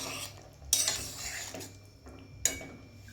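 A spoon stirs boiled potato and pumpkin curry in a pot, with two sharp metallic clinks against the rim amid quiet scraping.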